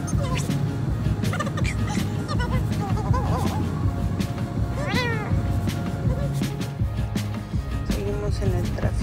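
A kitten meows several times amid a busy, noisy scene with people talking and other animal calls, including fowl, the meows moderately near and partly masked by the talk.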